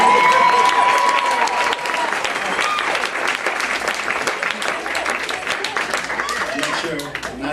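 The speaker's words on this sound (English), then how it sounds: "Not everybody was clapping" Audience at a stand-up comedy show applauds loudly, dense clapping and some cheering filling the room, strongest at the start and then holding steady with no talking.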